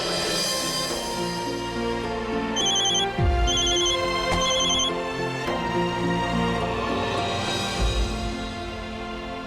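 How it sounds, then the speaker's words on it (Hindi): A phone rings repeatedly in a steady electronic ringtone pattern, with music-like tones running underneath throughout. "फोन उठाओ।"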